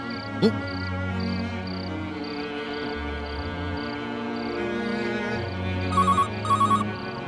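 An outgoing phone call rings through near the end as two short, bright double ring-back tones, heard over a sustained musical drone with chirping in the background.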